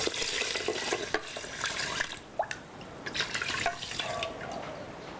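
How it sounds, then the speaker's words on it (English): Coconut milk pours into the pot of washed rice in a rice cooker, a continuous close liquid splashing and trickling with a few drips, steady for several seconds with no talk. "This rice I washed already earlier and add the coconut milk."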